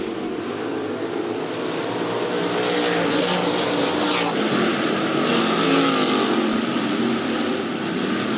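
Sprint cars roar through a heat race at Rapid Speedway, a dense, loud wall of engine noise with rising and falling pitch as the field passes, steady and continuous throughout.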